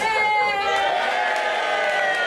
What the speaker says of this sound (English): That's right, you cheer.